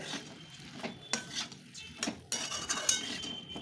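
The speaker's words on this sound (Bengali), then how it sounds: "এখন আলুগুলাকে খুব ভালো করে মিশিয়ে নেব" Fried potatoes stirred into spinach-stem masala in a pan, with quiet scraping and clinking of a spoon against metal in irregular strokes and a faint sizzle underneath.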